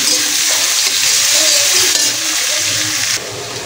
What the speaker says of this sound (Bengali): পেঁয়াজের লাচ্ছা, কুচিয়ে রাখা পেঁয়াজ দিয়ে এটাকে সুন্দর করে ব্রাউন করে ভেজে নেবো